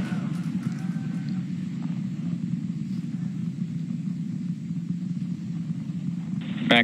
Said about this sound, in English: We're seeing 32 out of 33 engines lit on the Super Heavy right now.